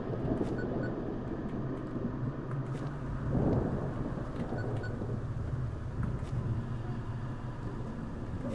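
Storm in the horror game Static Dread, with a steady low rumble of rain and wind and a swelling roll of thunder near the middle, loud and continuous.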